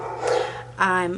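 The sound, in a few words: dog barking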